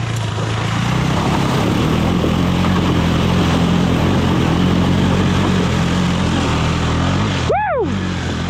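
KTM 390 Enduro R motorcycle riding a tight obstacle course between trees, a steady loud engine drone throughout with a brief rising-and-falling whine near the end, as if passing close.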